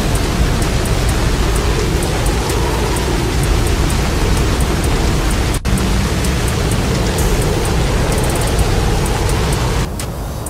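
Heavy, steady rain from a storm pounding down in Texas, a dense continuous wash of noise at constant loudness with no voices, easing slightly near the end.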